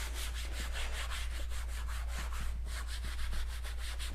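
A detail brush scrubs faded plastic trim on an E36 car, giving a steady, rhythmic brushing scratch, close and fairly quiet, with no talk over it.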